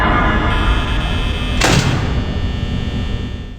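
Animatronic arriving outside the door in Five Nights at Freddy's, a loud sustained droning ambience broken by a single sharp thud-like burst near the middle, then continuing hum.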